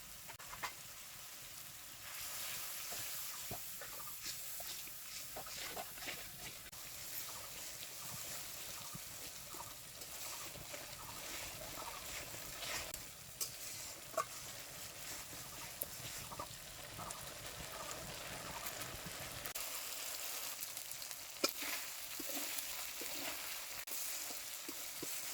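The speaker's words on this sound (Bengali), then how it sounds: "মশলাটা কষাইনে হয়ে গেছে, পুরা তেল ছেড়ে দিছে।" Spice paste of ginger, cumin, chili and turmeric sizzles in oil for a singara filling, a steady close hiss with scraping stirs throughout and no talking.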